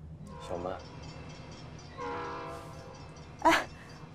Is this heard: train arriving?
yes